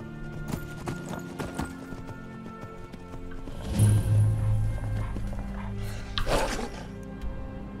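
Horse hooves clip-clop in the Skyrim video game, a series of steady hoofbeats near and clear, with a whinny partway through and a voice speaking briefly.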